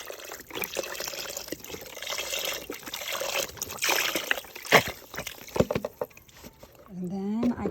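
Beef broth pours from a 32-ounce carton into an Instant Pot for pho, a steady liquid trickle and slosh that continues throughout at close range, with a brief voice near the end.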